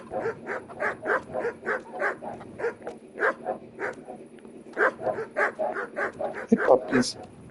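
Dogs in the Kingdom Come video game bark in a steady run of short, repeated yaps and woofs, moderately loud, with a voice speaking briefly over them near the end.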